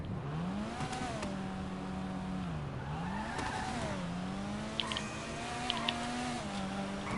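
A video game car's engine revs steadily and rises and dips in pitch as it is double-clutched, a continuous droning whine with brief clicks near the end.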